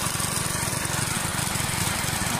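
Small motor on a coconut drifting machine with an aluminium propeller, running continuously as it pushes water, a steady, rapid mower-like chugging close by.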